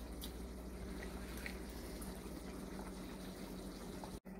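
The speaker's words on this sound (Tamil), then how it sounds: "அரிசி தண்ணி ரெண்டும் சேர்ந்து கொதிச்சு" A pot of seeraga samba rice and water boils together for chicken biryani, a soft continuous bubbling and simmering hiss, faint and steady, heard close with no talking.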